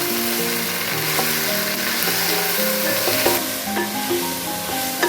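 Okra (ladies finger) frying in a pan with salt, stirred so a spoon scrapes and clinks over a steady sizzle; a continuous crackle with light metallic knocks, close and moderately loud, no voices.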